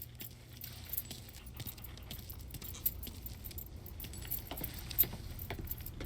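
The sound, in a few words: car keys jangling in video game Mafia III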